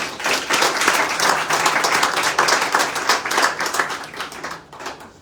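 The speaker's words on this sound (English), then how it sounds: "Let's give them a round of applause" An audience applauds an affordable housing grant recipient at a mayoral grant awards ceremony, a steady round of many hands clapping that thins and fades near the end.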